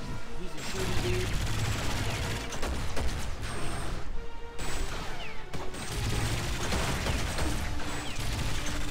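Gunfire from Cable in the video game Marvel Heroes 2016, dense bursts of rapid synthetic shots and impacts repeating throughout with brief pauses, loud and mixed with game effects.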